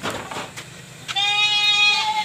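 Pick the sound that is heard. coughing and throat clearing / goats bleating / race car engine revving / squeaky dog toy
goats bleating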